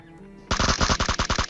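Rapid automatic gunfire in the PUBG Mobile video game, a loud burst of about a dozen evenly spaced shots following a short quiet lead-in, heard alone with no talking.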